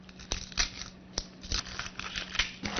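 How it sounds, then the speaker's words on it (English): A knife cutting an onion in half on a board, with several close, crisp cuts and taps at an irregular rhythm, fairly quiet, with no talk. "And you cut the onion in half."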